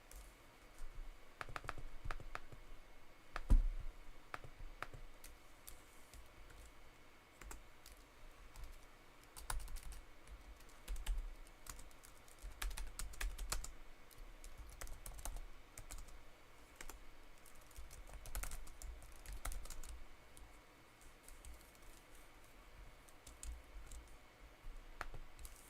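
Someone types steadily on a computer keyboard at close range, quiet irregular key clicks and taps with occasional louder keystrokes over a low background hum, with no talking.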